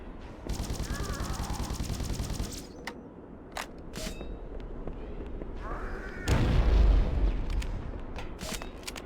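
Needler weapon firing in the Halo CE beta build, a rapid stream of bright, crackling shots in a sustained burst, then scattered sharp pops and a heavier explosive thump amid game noise.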